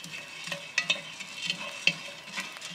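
Coffee beans roasting give irregular sharp cracks and pops, popcorn-like, scattered over a soft hiss, with no talking.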